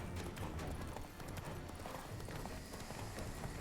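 Roach the horse gallops hard in a Witcher race, a quick, steady clatter of hooves that stays dense and driving throughout against a fairly noisy background.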